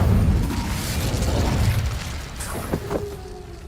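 A fire spell bursts out in the Hogwarts Legacy game with a loud whooshing roar of flame that fades over a few seconds, followed by a few sharp crackles and pops.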